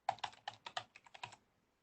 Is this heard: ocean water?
no